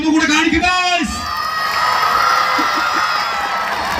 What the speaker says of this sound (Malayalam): ഒരു കയ്യടി ഒന്നുകൂടെ കാണിക്കുക.